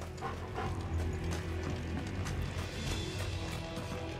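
A dog pants rhythmically in Final Fantasy XVI gameplay, quick breathy huffs repeating close up over a busy bed of game sound and music.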